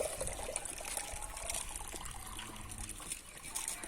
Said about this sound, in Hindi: नीचे पानी गिरता है ना